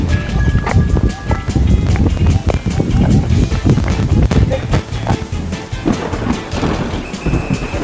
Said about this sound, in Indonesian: Hujan euy.